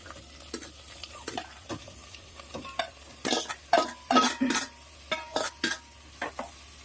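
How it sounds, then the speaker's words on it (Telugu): Broad beans tossed into a pan with fried chillies for a curry sizzle while being stirred, producing irregular scrapes and clatters against the pan that grow busier and louder midway. "చిక్కుడుకాయలు వేసుకొని మంచిగా కలుపుకుందాం"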